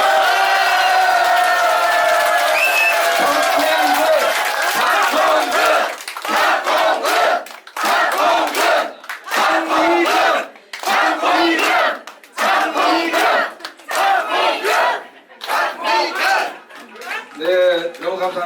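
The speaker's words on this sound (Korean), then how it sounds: "큰 박수와 환호를 다시 한번 질러주시기" Supporters at a re-election celebration for lawmaker Park Hong-geun in Jungnang break into loud cheering and shouting, a sustained crowd roar that then pulses in repeated rhythmic bursts of chanting and clapping.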